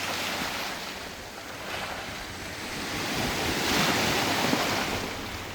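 Ocean waves roll in with the incoming tide on a Tuvalu shore, a steady washing surf with wind noise that swells gently and peaks midway, with no voices.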